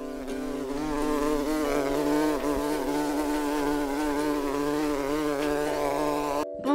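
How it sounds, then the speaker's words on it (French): A housefly buzzes steadily and loudly up close for several seconds, its whining drone wavering slightly as it circles, then cuts off abruptly near the end. "une mouche volante entra par la fenêtre ouverte et se mit à tournoyer autour d'eux"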